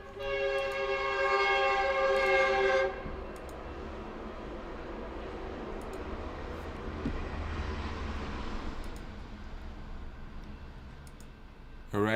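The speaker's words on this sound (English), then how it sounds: "Let's let the train pass." A train rolls past with a loud, sustained horn blast for the first few seconds, then a steady rumble of wheels and cars on the rail continues, fairly close, with no talking.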